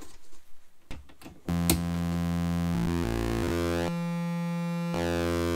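A Cold Mac subharmonic patch on a synth module gives a steady, buzzy electronic drone rich in harmonics and subharmonics, starting after a short noisy burst, shifting in pitch and timbre, then holding steady with a brief dip near the end.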